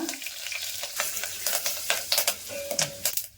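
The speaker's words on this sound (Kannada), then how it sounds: "ಎರಡು ಟೇಬಲ್ ಸ್ಪೂನ್ ಕೊಬ್ಬರಿ ಎಣ್ಣೆ ಹಾಕೊತಾ ಇದ್ದೀನಿ. ಸಾಸಿವೆ, ಒಂದು ಸ್ವಲ್ಪ ಕರಿಬೇವು, ಒಂದು 1/4 ಟೇಬಲ್ ಸ್ಪೂನ್ ಅರಿಶಿನ" Mustard seeds, curry leaves and turmeric sizzle in coconut oil for an Udupi-style sambar tempering, a steady close crackle with sharp popping bursts scattered throughout, no voices.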